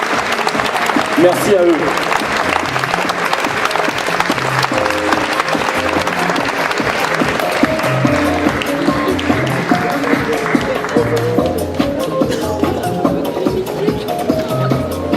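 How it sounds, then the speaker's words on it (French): A crowd applauds at the Utopiales 2016 award ceremony. Steady, dense clapping continues throughout while a voice speaks over it. "Je crois qu'on peut les applaudir"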